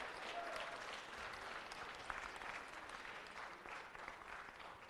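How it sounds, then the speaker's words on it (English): An audience at a Los Angeles City Council meeting applauds in a steady, even round of clapping that is soft and somewhat distant. "Let's give a round of applause because we're all alive."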